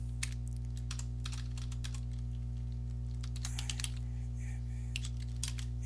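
Commands being typed on a computer keyboard, with quick irregular bursts of key clicks over a steady low electrical hum and no talking.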